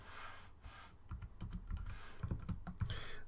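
Typing on a computer keyboard while writing code for a craps dice game, a quiet, close run of uneven key clicks with a few firmer taps, no voices.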